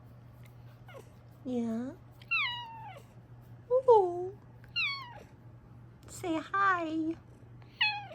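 A female cat gives a series of short, rising and falling meows spaced a second or so apart over a low steady hum, while a person speaks a few brief words between them.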